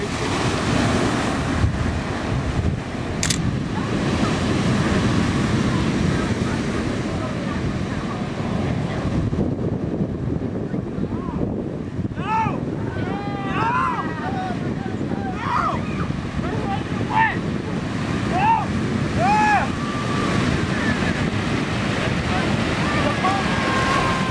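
Ocean surf washes onto a beach under strong gusts of wind buffeting the microphone, a continuous roar with faint tonal whistles partway through.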